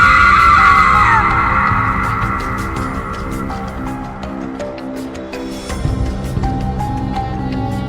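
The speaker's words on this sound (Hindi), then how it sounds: "भयानक चीख और सब जगह सन्नाटा पसर गया।" A terrible scream sound effect in a horror story, a loud shrill cry at the start that fades into a droning, eerie tonal bed with scattered sharp clicks.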